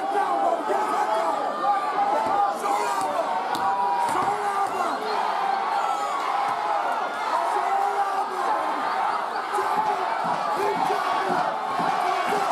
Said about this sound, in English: The crowd's going crazy, cheering these guys on for brawling.